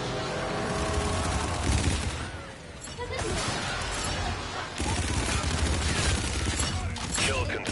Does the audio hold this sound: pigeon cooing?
no